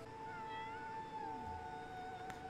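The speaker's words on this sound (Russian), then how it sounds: "Почему он мяукает?" A pet cat in the video game Black Desert Online meows in one long, drawn-out call over faint background noise, with a brief click near the end.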